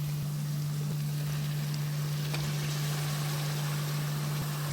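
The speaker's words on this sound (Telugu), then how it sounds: "ఇప్పుడు టమాటా యాడ్ చేద్దాం ఇందులో." Tomatoes going into a pan of softened frying onions for a jackfruit curry, giving a steady, faint, broadband sizzle under a constant low hum.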